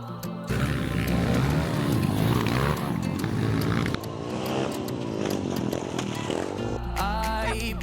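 A motorbike on a freestyle ramp revving hard, its engine note rising and falling through gear changes in a continuous loud roar, with a brief pitch sweep near the end.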